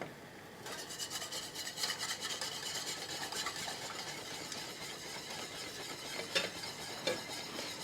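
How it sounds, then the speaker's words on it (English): Cream being whisked into a pan sauce for pan-seared sea bream, a continuous scraping and swishing of the whisk against the pan, with light sizzling underneath and a few sharper metallic ticks. "And now we can put our cream in. And what we want to do is whisk this in."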